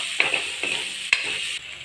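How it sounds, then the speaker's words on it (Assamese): Chopped onions frying in hot oil until brown for a paneer gravy: a steady close sizzle broken by three quick spatula scrapes and knocks against the pan. "পিয়াজখিনি ব্ৰাউন কালাৰ হোৱালৈকে ভাজিব লাগিব"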